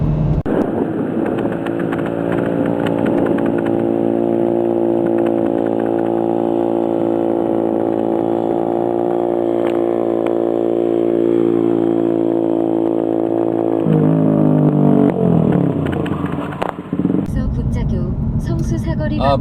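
A small 100cc Honda Ape 100 (XZ 100) motorcycle engine hums steadily at a constant pitch while riding, then shifts and dies away near the end.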